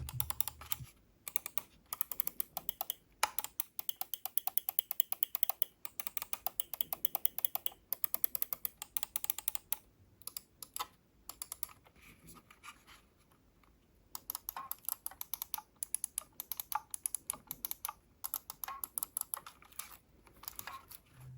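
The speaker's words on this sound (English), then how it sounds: "let's do button sound comparison between G502 X Plus and G Pro X Superlight" Rapid, crisp Logitech G502 X Plus and G Pro X Superlight gaming mouse button clicks in dense bursts with short pauses, close and fairly quiet.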